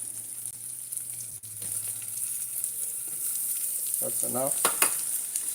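Onions sizzling in a pan during home cooking, a soft steady crackle with stirring, and a short spoken remark near the end.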